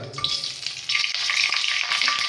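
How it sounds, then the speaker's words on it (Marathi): Whole spices dropped into hot oil for a vegetable biryani crackle and sizzle loudly and steadily, close up, with a bright, spitting hiss and a few sharper pops throughout. "तर आपलं तेल आता एकदम परफेक्ट गरम झालेलं आहे. त्याच्यामध्ये आपण खडे मसाले टाकून घेऊयात."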